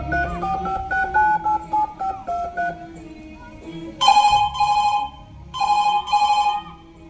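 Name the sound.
telephone dialing and ringing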